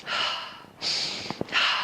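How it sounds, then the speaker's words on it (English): A person takes three quick, forceful inhalations through the nose, each a sharp airy rush, the second one after a brief pause with a couple of small clicks. "Breathing in rapidly,"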